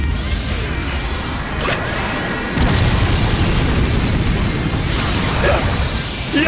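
Killer Queen's third bomb, Bites the Dust, goes off in the Jojo's All Star Battle video game, a loud sustained explosive roar and rumble with a sharp burst partway through, filling the whole stretch.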